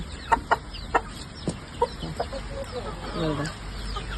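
Several short chicken clucks scattered through the clip at close range, with a few softer calls toward the end.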